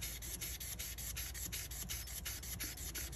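An ebonite fountain pen being sanded back and forth by hand gives a steady, rapid, close scratching rasp, with even repeated strokes and no talking.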